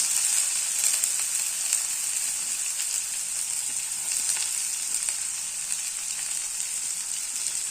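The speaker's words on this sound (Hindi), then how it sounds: "तापर आम जो पियाज काटिकी रखीचे ताको पियाज ताधरे पकई नवा" Onions frying in a pan for a potato curry, after cumin and dried red chillies went in, giving a steady, close hiss of sizzling oil with faint crackles throughout.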